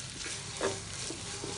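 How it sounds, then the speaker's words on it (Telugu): Mint chutney stirred into a hot tempering in a pan, a faint, quiet sizzle with a few soft scraping strokes of a spoon, no voices. "ఇప్పుడు ఇది వేసుకొని పోపు అంతా పచ్చడి పట్టేలా కలుపుకోవాలి"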